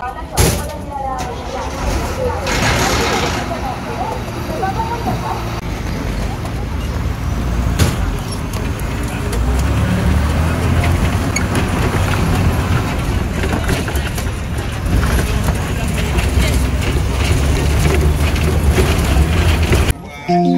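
Inside a moving Maharashtra State Transport red bus on the road near Panvel, the engine rumbles low and steady. A sharp hiss and clunk sound early on, and a voice speaks over the drone.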